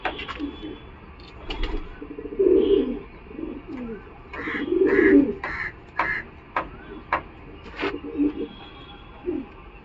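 Udasira pigeons coo at the Galiff Street pigeon market, with several low, rounded coos rising and falling over a few seconds, close by and fairly clear, along with faint background bustle.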